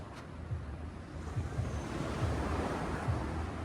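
Ocean surf rolls in close beneath a cliff on the coast of Antique, Philippines, a steady roaring wash with a few distinct breaking pulses and wind buffeting the microphone; no voices.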